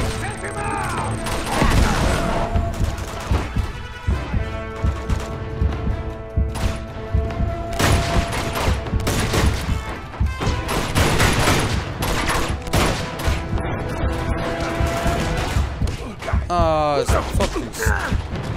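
Rocket launcher fire and explosions in the video game Uncharted 2, a loud, dense barrage of blasts, booms and gunfire running continuously, with a voice talking over it at times.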